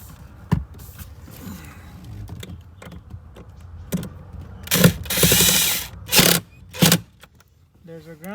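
A ratchet tightens a 10 mm ground bolt inside a Dodge Durango during a dash cam install, giving several short bursts of clicking with brief pauses between them and quiet handling noise in the gaps.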